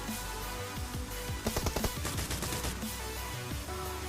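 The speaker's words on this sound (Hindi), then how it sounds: "तो अचानक से ये फायरिंग कर दिया अपने ऊपर।" Rapid bursts of gunfire from a camping enemy in PUBG Mobile, a dense flurry of sharp shots clustered mid-clip over constant game background noise.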